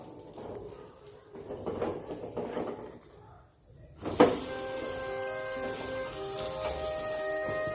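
Bun dosa frying in oil on a pan over a low gas flame gives a soft, steady crackling sizzle. It begins quieter and patchy, then after a sharp bump becomes a continuous fizz with faint tonal ringing behind it.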